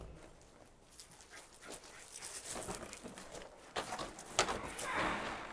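Dogs at homestead kennels whimpering and panting close by in short, uneven bursts, with shuffling movement and no speech.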